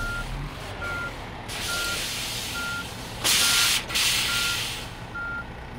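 A truck's air brake lets out a loud hiss that cuts off, then another burst follows, over a low diesel idle and a steady, evenly spaced reversing beep in a truck simulator game.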